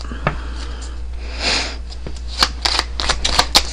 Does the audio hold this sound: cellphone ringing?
no